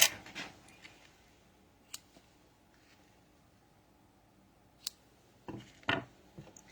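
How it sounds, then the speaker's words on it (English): Scattered faint snips and clicks of scissors being handled, a few isolated taps early on and a cluster of sharper snips near the end, no talking. "I want to get my other scissors out, my ribbon scissors"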